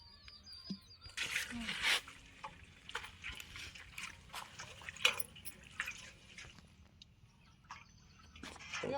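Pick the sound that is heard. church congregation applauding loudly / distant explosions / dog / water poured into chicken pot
water poured into chicken pot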